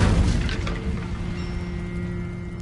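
An Incendio fire spell cast in Hogwarts Legacy bursts out loudly at first as a roaring, crackling rush, then trails off into a fading fizz.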